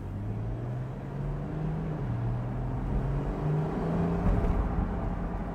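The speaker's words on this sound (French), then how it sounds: "On entend encore hein, la famille, hein, le son mythique de la Porsche." A steady low Porsche 911 engine drone with gently rising and falling pitch, continuous and fairly close, running at moderate revs.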